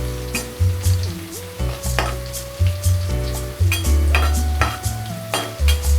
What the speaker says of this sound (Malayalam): വെളുത്തുള്ളി നന്നായി വഴന്നതിന് ശേഷം നമ്മൾക്ക് പച്ചമുളക് ഇടാം.